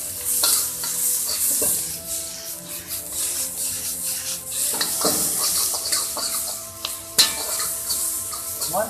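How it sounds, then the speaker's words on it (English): Bok choy, bean sprouts and onion stir-fried in a hot pan, with a steady loud sizzle and repeated scraping, tossing strokes, and a sharp clatter near the end; no one speaks. "Once it has been stir fried for a few seconds"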